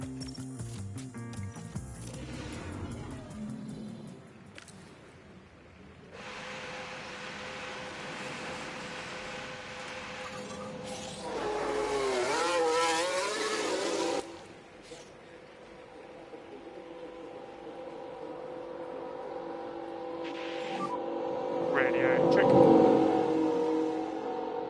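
Formula 1 cars at Suzuka in F1 Manager 23, Mercedes AMG, engines whining and revving at varying pitch with rising and falling passes, loud bursts near the middle and end, under ongoing talk.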